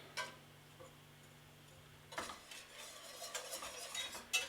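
Butter is whisked into a sauce for beef, with a faint, steady ticking of the whisk against the pan and a few louder clinks, quiet and close.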